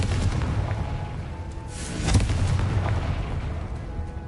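A Confringo fire spell explodes in Hogwarts Legacy, a deep rumbling burst rising out of a steady low background roar and fading back into it.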